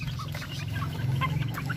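Chicks on a farm peep softly and cluck in a low, steady murmur, close and continuous, with small scattered chirps above it.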